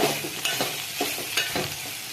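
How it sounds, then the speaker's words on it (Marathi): Crushed peanut powder is stirred into a flat bean (val) curry in a pan, with several soft scraping spoon strokes over a faint background sizzle, close up and without talk. "छान असं शेंगदाण्याच्या कुटाला पण छान मिक्स करून घेऊयात शेंगामध्ये."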